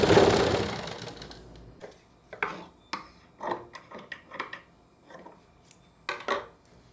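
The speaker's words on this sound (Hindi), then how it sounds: "इस पे हम अभी जो सिलाई लगाएंगे वो बाद में हटा देंगे" A sewing machine runs a temporary stitch through blouse lining in short, separate bursts of clattering needle action, each a second or less, with quiet pauses between.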